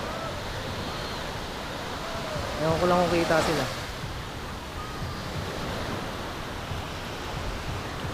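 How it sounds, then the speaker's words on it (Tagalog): Strong ocean surf roars steadily along the shore near Nasugbu, Batangas, with a wind-buffeted rush throughout and a person briefly speaking over it midway. "ang lakas ng alon"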